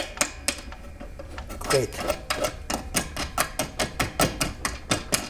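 A metal can and bolt are fitted into place, giving a string of sharp metallic clanks and taps that settle into a quick regular rhythm, close and fairly quiet, after one brief spoken word.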